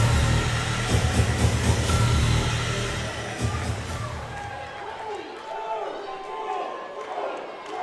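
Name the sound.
wrestling crowd cheering at a face-off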